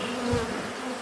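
Honeybees angered at a freshly opened hive swarm in a yard, a dense, continuous, droning buzz close by, with no voices.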